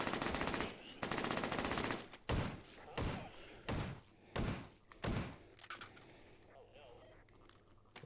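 Bursts of automatic gunfire from newly acquired ordnance in a video game, several sharp volleys in quick succession with short gaps, loud and close, fading into quieter background game noise.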